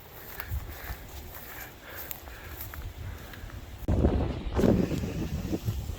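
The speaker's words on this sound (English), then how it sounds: "wind is going right up through here" Gusty wind buffets a microphone outdoors at a rifle practice range, building into heavy low rumbling bursts in the second half, with no voices.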